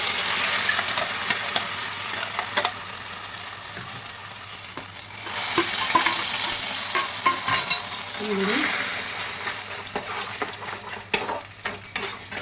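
Spice paste with black cumin hitting hot oil in a pan for a green plantain mash, a steady loud sizzle and frying hiss with scraping stirs throughout, swelling as the paste is turned.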